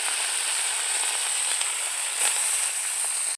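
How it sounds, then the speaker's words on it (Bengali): Pieces of bitter gourd coated in salt and turmeric fry in hot oil, giving a steady, bright, close hissing sizzle with faint crackles that runs unbroken until it cuts off abruptly. "এটা নুন হলুদ দিয়ে ভেজে নিই"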